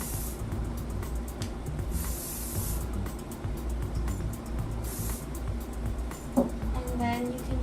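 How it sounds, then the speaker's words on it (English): Hairspray is misted onto hair for beach waves in two short, sharp hissing bursts a few seconds apart, close and distinct, with quiet background talk in between. "don't forget to apply hairspray."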